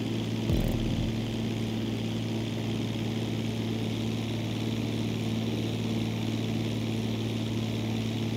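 A propeller airplane drones steadily through the air in a GTA video game, a constant loud engine hum with a brief thump near the start and no speech.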